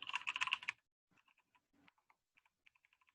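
Computer keyboard typing during a software testing session: a quick dense burst of keystrokes first, then scattered single and paired key clicks, close but faint in a quiet room.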